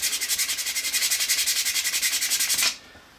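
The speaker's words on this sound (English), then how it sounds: "you want to continue sanding on the coarser grits" Coarse-grit sandpaper rubs rapidly back and forth across a clear resin casting in quick rhythmic strokes, close and scratchy, stopping abruptly after almost three seconds.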